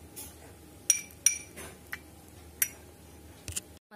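A spoon mixing an aloe vera face pack with rose water and fresh lemon juice in a small bowl, giving several sharp, separate metallic clinks against a quiet background, close up with no talk.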